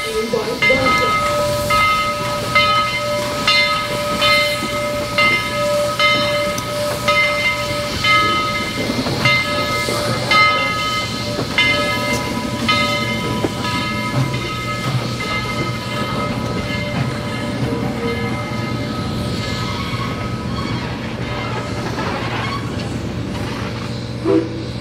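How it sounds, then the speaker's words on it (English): Southern steam locomotive No. 4501 rolls past a standing train on a runaround move, sustained rail clatter and hissing steam filling the whole stretch at close range, with a whistle-like tone threaded through. "the locomotive is going to go past our train and then do a switch"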